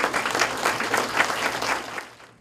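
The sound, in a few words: audience applause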